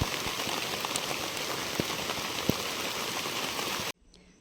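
Steady rain falls in a hill village in the mountains, a dense close patter on surfaces with scattered heavier drops, continuing for several seconds before cutting off abruptly near the end.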